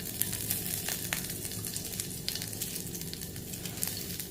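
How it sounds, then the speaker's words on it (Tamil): Mustard seeds, cumin and curry leaves sizzle in hot sesame oil in a kadai, giving a continuous crackling fry with scattered sharp pops. It is close and steady, with no talk. "1/2 டீஸ்பூன் நல்லெண்ணெய் விட்டுக்குருவோம். கொஞ்சமாக லைட்டாக கடுகு போட்டுக்குருவோம்."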